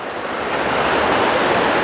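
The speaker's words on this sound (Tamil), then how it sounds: "அந்த பிரிட்ஜுக்கு கீழால் தண்ணி போகுது" Water rushes under a small bridge in a village at Bad Ragaz, Switzerland, a loud, steady broadband roar that holds evenly throughout with no voices.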